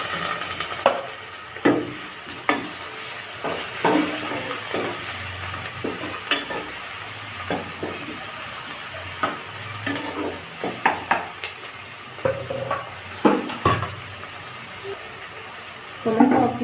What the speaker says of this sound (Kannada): ಈಗ ಆನಿಯನ್ ಫ್ರೈ ಆಗಿದೆ, ಇದಕ್ಕೆ ಹಚ್ಚಿಟ್ಕೊಂಡಿರುವಂಥ ಒಂದು ಟೊಮೆಟೊನ ಹಾಕೋಣ